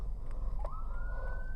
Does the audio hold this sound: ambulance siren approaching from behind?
yes